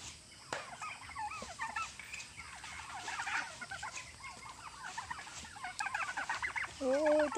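A flock of turkeys gobbling and clucking nearby in rapid overlapping bursts through the whole stretch, loudest toward the end, with no voices over them.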